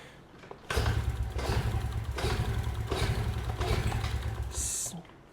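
ATV engine cranking over during a compression test with the throttle held open, a close, steady rhythmic churning lasting about four seconds, followed by a short high hiss as it stops.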